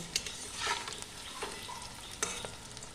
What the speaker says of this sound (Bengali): এই যে কড়াইয়ে তেল দিয়ে পিস পিস করে রাখা বড়াগুলো আমি এপিট ওপিট লাল করে ভেজে নেব